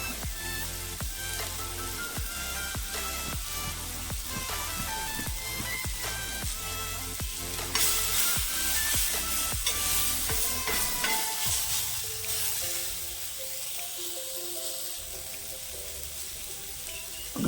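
Kothu parotta ingredients sizzle and fry in a pan while a utensil scrapes and stirs in quick repeated strokes, then the frying settles into a steadier hiss; loud and close, no talking.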